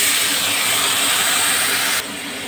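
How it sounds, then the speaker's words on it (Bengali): Spices mixed with water hit frying tomato masala for a spicy pomfret fish curry, giving a loud, steady sizzling hiss that eases slightly near the end, with no talking. "এবার জলে মেশানো মশলাগুলো দিয়ে দিলাম"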